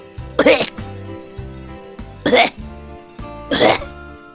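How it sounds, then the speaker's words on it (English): Three distinct coughs, evenly spaced and fairly close, over a soft musical bed. "Cough."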